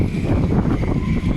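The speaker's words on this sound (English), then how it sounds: "this is what 53, gusting 53 knots sounds like in the marina at the moment" Gale force wind gusting to 53 knots roars through a marina at Monastir, Tunisia, a loud, steady rushing buffet against the microphone with no pauses.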